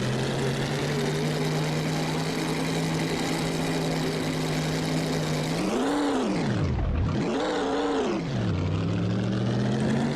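Vintage 1939 Grand Prix race car engines at a race start in the Assetto Corsa racing game, Tripoli circuit: a loud, steady idle drone swells as revs rise, then the pitch dips and climbs twice in sharp revving sweeps before settling into a higher hum.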